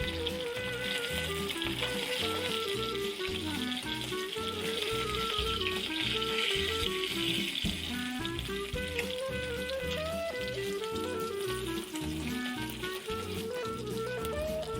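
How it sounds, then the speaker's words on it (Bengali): Foli fish frying hard in hot oil, a dense, steady sizzle with crackling pops that runs the whole time, close and loud, with no talk over it. "ফলি মাছটা একটু কড়া করে ভেজে নিতে হবে।"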